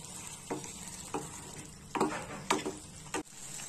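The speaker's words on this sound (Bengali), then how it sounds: "এবার এটাকে আবার কষিয়ে নিতে হবে।" Chicken kosha with potato sizzles in an oily pan while it is stirred and sautéed. Soft, steady frying hiss is broken by several close scraping strokes of the spoon.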